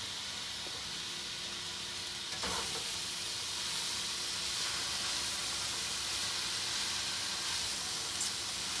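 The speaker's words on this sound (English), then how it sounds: "I'm going to stir it up" Bok choy sizzles and hisses steadily in a hot pan while being stirred, a continuous bright frying crackle with a few faint scrapes and no talking.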